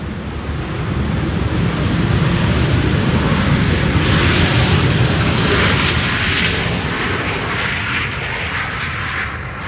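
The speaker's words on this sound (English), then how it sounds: "Ryanair, in the meantime, with reversers." A Ryanair airliner lands on Schiphol's Polderbaan runway 18R and deploys its thrust reversers, a loud sustained roar that swells midway and stays strong to the end.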